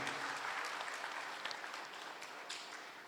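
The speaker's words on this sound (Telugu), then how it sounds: "మనం ఒక్కసారి చప్పట్ల ద్వారా ధన్యవాదాలు తెలియజేయాల్సిందే" A crowd at a retirement function for an engineers' association member gives steady applause, with dense clapping that continues throughout and fades slightly toward the end.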